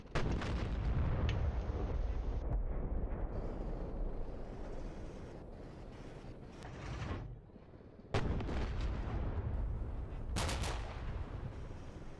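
Tank cannon rounds boom in a video game tank battle: heavy, close blasts with long rumbling tails, a thick barrage early on, then a brief lull before another burst of loud firing.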